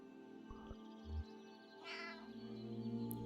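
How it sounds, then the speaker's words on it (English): A single meow from the cat in Kentucky Route Zero sounds midway, short and fairly clear, set against a constant low droning hum with a few soft thuds before it. "Confident Meow."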